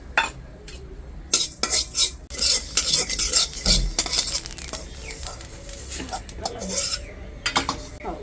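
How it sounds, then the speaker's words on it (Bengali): Black cumin seeds in hot oil for a taro-leaf paste, stirred briskly: loud, irregular metal scraping and clattering strokes with a light sizzle underneath, no talking. "এখন কচু পাতা বাটার জন্য কালি জিরাটা তেলে রাখি।"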